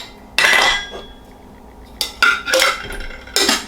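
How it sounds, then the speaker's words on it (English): A backpacking stove being packed into a cooking pot, a few distinct metallic clinks and rattles of metal against metal in short bursts, close and with no talk. "oh, we should put the stove in there."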